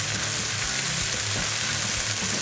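Coriander and white pepper toasting in a pan, a steady close sizzle and crackle with faint stirring scrapes, no voices.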